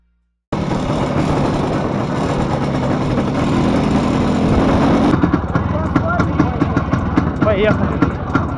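An IZh Planeta motorcycle being ridden, its engine droning loud and steady throughout, with a rougher, choppier note in the last few seconds as it moves along a road.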